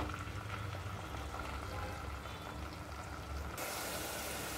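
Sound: onions and green chillies frying in oil in clay pot

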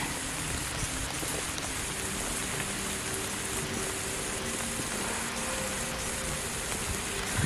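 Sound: heavy rain pouring outdoors on a trail

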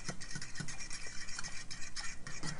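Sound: stirring mac and cheese with a fork instead of whisk

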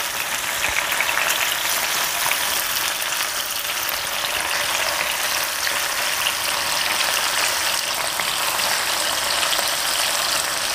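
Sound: tilapia frying in a pan

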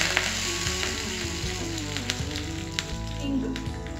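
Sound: mustard seeds, cumin and curry leaves sizzling in tempering

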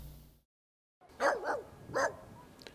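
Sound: stray dogs barking

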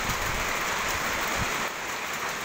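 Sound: rain falling outdoors

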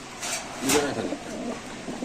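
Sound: racer pigeons cooing in a cage

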